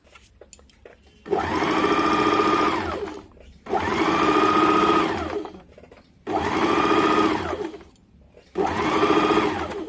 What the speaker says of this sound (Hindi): इसे अब हम लोग मशीन से सिलाई कर देंगे।